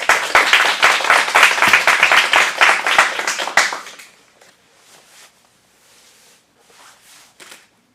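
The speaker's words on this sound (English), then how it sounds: "One more round of applause." Audience applause at an adult acting-class script showcase in a Phoenix studio, a dense burst of clapping for about four seconds that cuts off abruptly, followed by near silence with a few faint scattered sounds.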